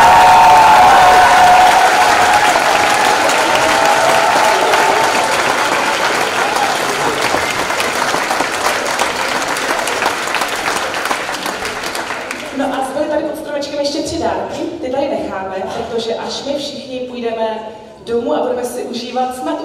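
A crowd at a live school choir Christmas concert in Karlovy Vary applauds loudly and continuously for about twelve seconds. The clapping then drops away and a voice speaks alone.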